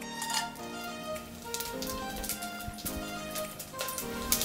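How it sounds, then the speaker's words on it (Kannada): Whole garam masala spices, cinnamon, cloves, bay leaf, star anise, fennel and cardamom, frying in hot oil in a cooker, a steady soft sizzle with faint crackles and stirring, mixed with background music tones. "ಎಣ್ಣೆ ಬಿಸಿ ಆದಮೇಲೆ ಸ್ವಲ್ಪ ಗರಂ ಮಸಾಲೆಗಳು ಹಾಕ್ತಾಯಿದ್ದೀನಿ."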